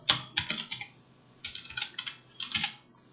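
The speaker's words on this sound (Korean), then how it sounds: "타이핑을 해야겠네요." Typing on a computer keyboard during a web development lesson, three quick bursts of close, crisp key clicks with brief pauses between them, no talking.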